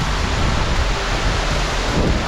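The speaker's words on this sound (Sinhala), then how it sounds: "මේ දියැලේ කියන වතුර පාර." Bomburu Ella waterfall in Sri Lanka roars as a dense, steady rush of falling water, loud and unbroken with no voices.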